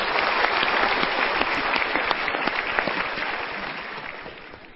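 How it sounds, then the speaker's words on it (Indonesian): Audience applause fills a lecture hall at a motivational talk, a dense, steady clatter of many clapping hands that stays loud and sustained, tapering only slightly toward the end with no voices over it. "Kita berikan tepuk tangan dulu"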